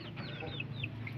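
Chickens on an organic farm raised on maggot feed, several close clucks and short rising calls overlapping in quick succession over a low background hum.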